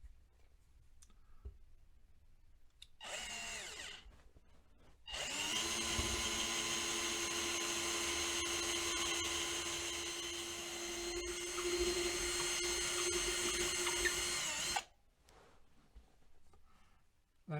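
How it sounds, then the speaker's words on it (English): A power drill whines briefly, then runs steadily for about ten seconds with a high motor drone and grinding as it bores through a model railway baseboard, surrounded by quiet clicks. "drill at the ready, excuse the noise"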